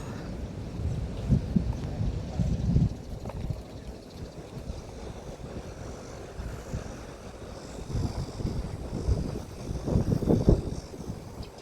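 Wind gusts buffet the microphone outdoors on an overcast hike up Quarry Hill, Ho Man Tin, Hong Kong, a low rumbling roar that swells and fades in waves, with no one talking.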